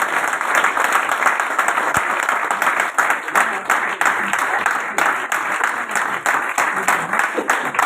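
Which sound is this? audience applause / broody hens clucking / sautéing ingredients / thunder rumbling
audience applause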